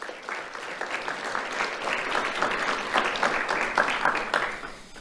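Sustained applause from an audience at a Lee County Sheriff's Office awards ceremony, steady dense clapping that fills the whole stretch, slightly swelling toward the end with no speech over it.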